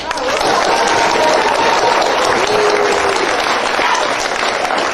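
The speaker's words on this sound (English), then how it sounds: "please join me in giving them a round of applause for all their hard work" Loud, sustained applause from a large crowd at a live radio show fills the space, with scattered cheers under the clapping.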